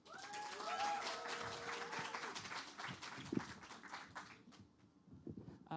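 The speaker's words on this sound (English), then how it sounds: "let's give a big round of applause" A crowd applauding steadily at a student social entrepreneurship presentation, with scattered claps fading toward the end and a few faint tones early on.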